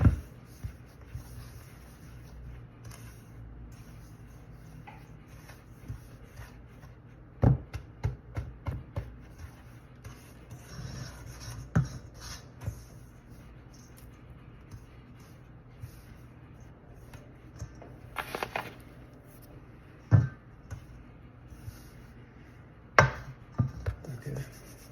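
Dry buckwheat cake ingredients, including dark buckwheat flour, stirred together in a bowl: soft, quiet scraping and rubbing with scattered sharper knocks of the utensil against the bowl, under low room hiss and no talk.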